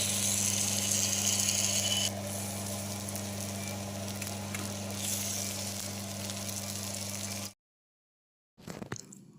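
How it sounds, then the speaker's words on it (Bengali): Ginger and chili paste frying in a pan, a steady close sizzle that runs continuously for several seconds before cutting out, with a brief burst of noise near the end. "আদা লঙ্কা বাটাটা দিয়ে দিলাম ওটা দিয়ে কিছুক্ষণ ভেজে ভেজে নেব"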